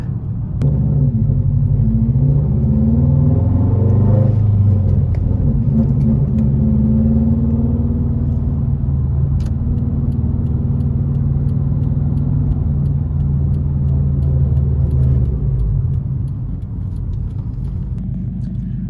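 A 2014 Subaru Impreza WRX with all-wheel drive on a test drive gives a continuous low engine drone and road rumble from inside the cabin, steady and fairly loud, easing slightly near the end.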